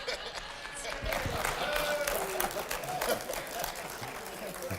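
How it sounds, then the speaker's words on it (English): Audience applause at a Colorado Springs city council forum, a steady wash of clapping lasting the whole moment at moderate distance, with a voice talking over it. "I'm going to talk right over all the clapping that's going on"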